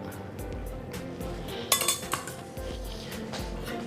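A metal spatula lifting a banana pancake onto a plate, giving a short cluster of bright clinks and scrapes midway through a quiet kitchen background, with no talking.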